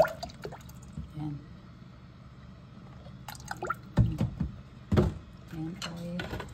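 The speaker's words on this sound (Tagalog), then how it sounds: "lagyan ko na siya ng oil" Cooking oil poured into a pan while making pakbet, a soft liquid trickle with a few nearby clatters and bumps against a quiet kitchen background.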